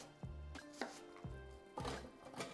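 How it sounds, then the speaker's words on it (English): Onion and red peppers pulsed coarsely in a food processor, several short bursts of blade whirring and chopping separated by brief pauses, close and fairly quiet. "we're going to use a processor today, which is just going to lightly coarsely chop it"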